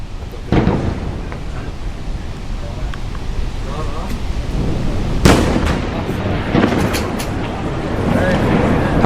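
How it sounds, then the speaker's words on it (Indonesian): Israeli airstrikes hit Nabatiyah, southern Lebanon, with several loud, rolling explosions and one sharp blast mid-clip over a constant rumble, while a voice speaks over the scene. "Rekaman video menunjukkan ledakan dan kepulan asap tebal yang membumbung di atas Nabatiyah dan kota-kota sekitarnya setelah serangan tersebut."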